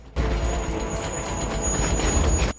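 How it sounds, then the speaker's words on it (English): A train roars past close by, a loud steady rumble with a high wheel squeal that starts abruptly and cuts off just as sharply. "When the train comes"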